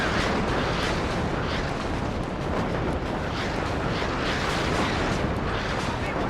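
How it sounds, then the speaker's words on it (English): Artillery shells from a big salvo explode continuously in the WARNO strategy game, a dense, loud, unbroken roar of overlapping blasts and rumble with no pauses. "It's just glorious watching this artillery fall."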